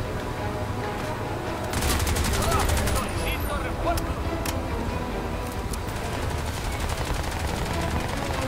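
Enemy gunfire in the video game Crysis 2 crackles in dense, rapid bursts, loud and sustained throughout, with occasional speech mixed in.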